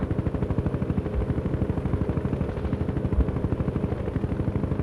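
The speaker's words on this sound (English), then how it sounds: "Deploy and lay down a heavy barrage." Rapid rhythmic thumping of artillery barrage fire in the real-time strategy game World in Conflict, a steady dense pulse of repeated blasts that continues without pause, loud and alone with no voices.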